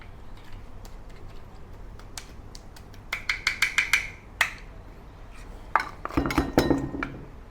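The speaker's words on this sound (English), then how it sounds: "I'm going to use this colander or whatever you call it with large hole to remove some of the large pieces" A metal colander with large holes scoops chunks out of a pot of Chinese tomato soup, giving a series of light clinks and taps against the pot, clustered into a few brief rattling bursts over a faint background hum.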